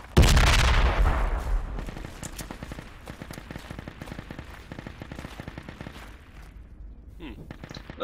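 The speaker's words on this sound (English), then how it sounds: "That's why I'm gonna toss a grenade." A grenade bursts in the Project Reality video game with a loud, close blast that decays over a second, followed by steady rattling rifle and machine-gun fire in the background.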